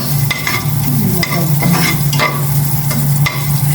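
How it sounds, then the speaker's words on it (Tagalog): Rice stir-fried in cooking oil, with a steady loud sizzle and repeated scraping strokes of the stirring utensil at an even rhythm. "Mag-fried rice naman ako. Bawasan ko lang itong mantika."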